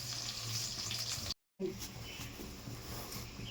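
Oiled whole eggplant roasting for bharta gives a steady, close sizzle and crackle that runs throughout, broken by a brief moment of silence midway.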